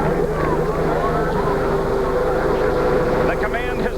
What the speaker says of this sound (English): The engines start to scream.